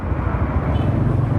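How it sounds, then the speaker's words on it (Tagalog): A Motorstar Easyride 150N motorcycle engine idles steadily at close range, with a continuous low, even drone and no talk over it. "hindi masyadong maingay ang makina."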